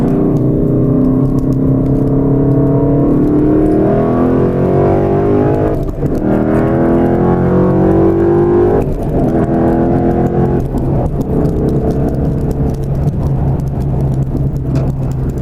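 A 2013 Mustang GT with the 5.0 V8 accelerating onto a freeway, engine note rising through the gears with a shift dip, loud, close and steady, with no talk.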